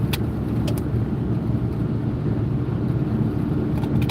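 Tires on a truck travelling along a road produce a steady low rumble and roar throughout, heard from a nearby vehicle, with a few faint clicks in the background.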